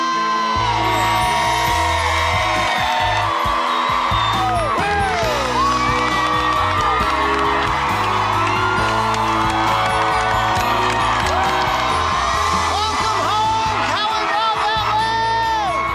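A large outdoor crowd cheers, whoops and shouts as a family arrives back at their rebuilt home, loud continuous mixed voices with higher children's yells over a steady roar.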